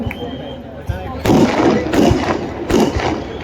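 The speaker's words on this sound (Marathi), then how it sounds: "जे फटाके 16 तारखेला फोडायचे आजच फोडून राहिले" Firecrackers burst outdoors in three sharp, loud bangs about half a second to a second apart, each trailing into a noisy crackle, with people talking in the background.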